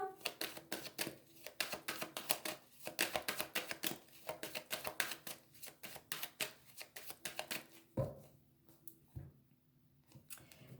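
Tarot cards are cut and shuffled by hand in quick, rhythmic riffling bursts, close and soft, pausing briefly near the end before a few last taps.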